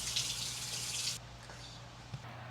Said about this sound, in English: I also need to wash my hands